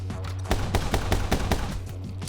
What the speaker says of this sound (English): Was it the gunshots?